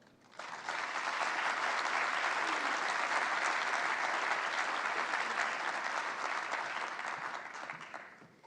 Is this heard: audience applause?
yes